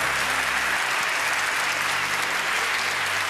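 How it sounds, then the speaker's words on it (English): A large audience at the Young Inventors Prize 2025 award ceremony breaks into sustained applause, a loud and even wash of clapping that fills the whole moment without a break. "Big applause to the family."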